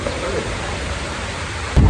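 Heavy rain pours steadily outdoors during a flood, a dense continuous hiss that swells into a louder burst near the end.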